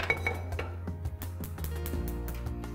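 A pressure cooker set out on a kitchen counter for boiling mutton gives several light metallic clinks and knocks, close and fairly quiet, against a low steady hum.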